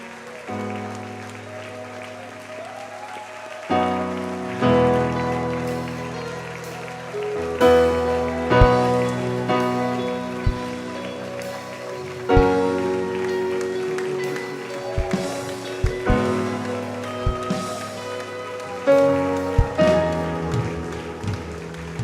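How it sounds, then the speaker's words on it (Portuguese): A church congregation bursts into applause during an evening service, the clapping rising in bursts over loud live worship music with sharp, repeated percussive hits. "forte aplauso a Jesus"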